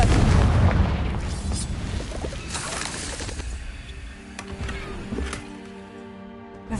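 A Confringo spell explosion in Hogwarts Legacy lands as a loud, booming burst at the start, its rumble decaying over several seconds while game tones ring out underneath, with no talking.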